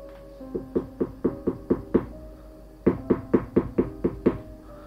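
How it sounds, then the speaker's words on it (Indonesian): Someone knocks on the front door of a house in two bursts of about six sharp, evenly spaced raps with a short pause between them, close and distinct over a quiet background. "Terdengar suara seseorang yang mengetuk pintu rumah."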